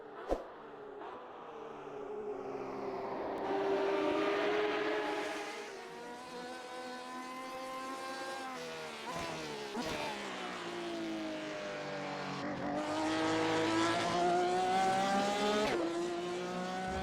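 Porsche 911 RSR GTE race car engine at Daytona in the iRacing simulator, a loud rising and falling engine wail with gear shifts and repeated acceleration runs, no talking.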